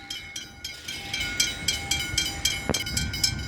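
A train rolls along the line at Dandenong, Australia, with a regular rhythmic clacking of wheels over the rail joints under a steady metallic ring, a sharp bang near the end, moderately close.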